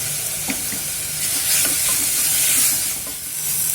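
Tomato, ginger, garlic and mint frying in a pan under a steady loud sizzle and hiss, with soft scrapes of stirring breaking through now and then, close by and without voices.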